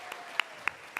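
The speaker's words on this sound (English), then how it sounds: "By a round of applause, how many of you are proud to be a Tennessee Democrat?" A handful of sharp, isolated claps, about four spaced roughly a third of a second apart, rise over a low steady room hum from an audience at a Tennessee Democrat gathering. The applause is sparse and fairly faint.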